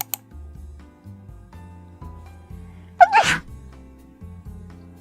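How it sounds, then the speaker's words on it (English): A single sharp human sneeze bursts out loudly about midway, standing out over quiet clicking, like keyboard or desk ticks, in an indoor setting with no talking. "I have to sneeze."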